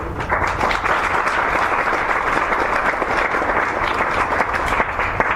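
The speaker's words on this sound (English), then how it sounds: "One big more round of applause for Jason Lewis, John Howe, and Darlene Miller." A room at a Republican congressional district candidate panel breaks into applause for the three candidates, a thick, even roar of many hands clapping that holds steady and loud from start to finish.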